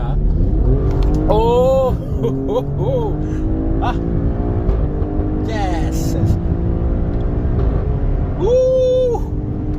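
Alfa Romeo Stelvio Quadrifoglio engine droning loud and steady throughout, with revving swells near the start, while people talk and exclaim over it nearby.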